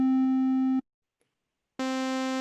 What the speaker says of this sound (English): A triangle wave.